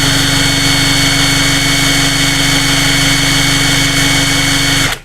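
A Heimerdinger LB266 cordless impact wrench runs at its second speed, with a loud, steady motor whine and hum that holds for about five seconds and then cuts off abruptly.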